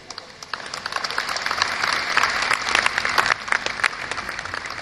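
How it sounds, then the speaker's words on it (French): An audience applauds at a film festival closing ceremony, many hands clapping in a dense wash that swells midway and then eases slightly. "Vous avez totalement raison d'applaudir"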